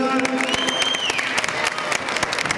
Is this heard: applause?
yes